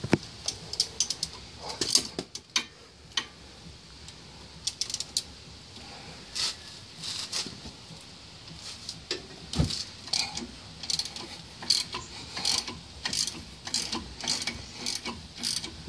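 A ratchet wrench clicks in bursts while loosening bolts on the hub assembly of a 2006 Chevrolet Uplander, with rapid pawl ticking, pauses and sharp metallic knocks, close and clear.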